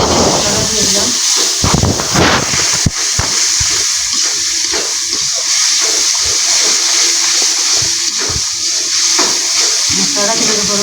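Masala spices frying in hot oil over fried onions for a spicy village-style chicken curry with kohlrabi, a loud continuous sizzle and hiss with occasional stirring clatter, while a voice speaks over it.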